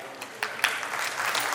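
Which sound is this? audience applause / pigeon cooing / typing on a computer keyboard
audience applause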